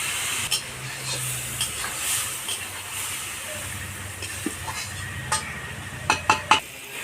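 Masala with Kashmiri chilli and a splash of water frying in a pan, a soft continuous hiss and sizzle broken by a few spoon clinks and a quick burst of scraping near the end.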